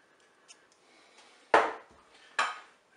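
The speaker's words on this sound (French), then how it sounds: "Je mélange tout ça." Rice seasoned with salt, pepper and curry being stirred in a Cookeo multicooker pot, with a couple of distinct utensil knocks and scrapes against the pot amid quiet moments.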